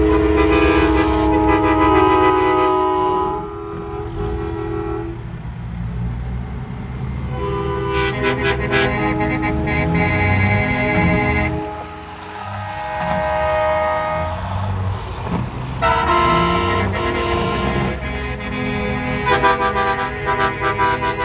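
Truck air horns blast repeatedly at a truck and horn parade, loud and close, in long sustained tones with short breaks between them as rigs pass.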